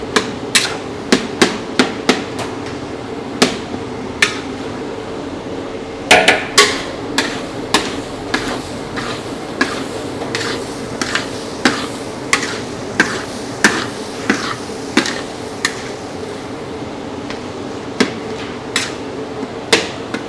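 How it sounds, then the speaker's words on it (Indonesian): A metal spatula scrapes and clanks against a wok while stirring a large batch of nasi goreng over high heat, sharp irregular knocks repeating steadily throughout with no talk. "Udah masuk semua bahan-bahannya, kita aduk-aduk lagi dengan membesarkan api juga, sambil manasin si nasi gorengnya."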